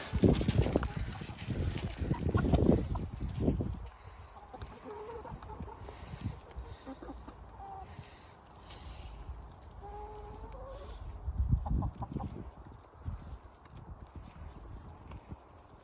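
Backyard chickens cluck softly while pecking at food scraps, with scattered clucks over a quiet yard, louder clattering bursts of activity near the start and again toward the end, and occasional faint voices.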